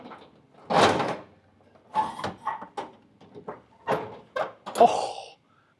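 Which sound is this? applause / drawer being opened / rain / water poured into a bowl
drawer being opened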